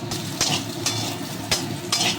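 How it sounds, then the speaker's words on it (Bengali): Boiled potatoes sizzle steadily in hot oil while a utensil scrapes and stirs the pan every half second or so, close by. "এবার আমি সেদ্ধ করা আলুগুলো ভেজে নিচ্ছি"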